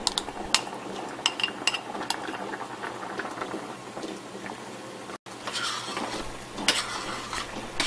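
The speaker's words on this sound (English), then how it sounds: "Put the rice cake and spicy sauce together and stir them in a high heat." Rice cake and spicy sauce stir-frying together over high heat, with close scraping and clicking of a utensil against the pan in irregular strokes over a soft sizzle, with a brief cut in the middle and no talking.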